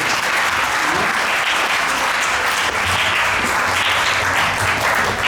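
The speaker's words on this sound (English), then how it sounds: "Big round of applause for Suresvara." Audience at an ISKCON Brampton lecture applauding the speaker Suresvara, a continuous, even roar of many hands clapping from start to finish with no break.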